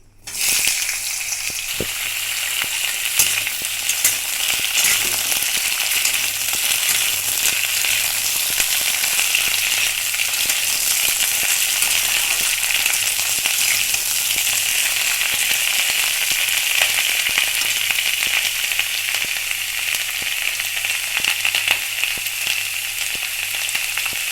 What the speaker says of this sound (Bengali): আমি ধুয়ে রাখা সবজিগুলো দিয়ে দিচ্ছি।